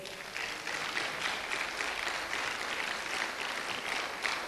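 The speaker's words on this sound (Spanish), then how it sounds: "Puede darle un aplauso al Señor por eso." Church congregation applauding steadily throughout, a dense even wash of clapping from many hands with no pauses or speech.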